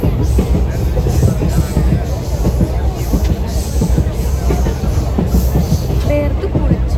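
Inside a moving train on an overnight interstate journey, a loud constant rumble and rush of wheels and carriage noise carries on steadily, with faint clicks and a brief squeal near the end.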